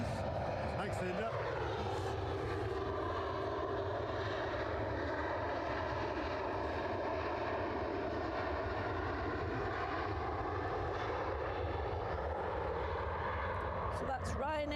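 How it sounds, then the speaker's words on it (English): A Ryanair jet departs Edinburgh Airport bound for Gothenburg, its engines a steady distant drone with a rising whine, heard throughout under intermittent talk. "So that's Ryanair off to Gothenburg"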